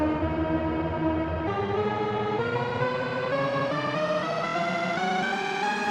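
A continuous harmonic musical passage, steady and fairly loud, with a choppy, stepped time-stretching artifact from beats-mode warping as the pitch glides slowly upward.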